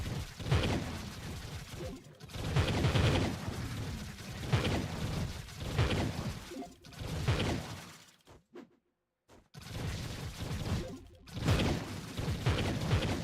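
Explosions and crashing impacts in the PC video game Dragon Day, loud dense bursts layered with clattering game effects, a brief near-silent gap midway before the blasts resume.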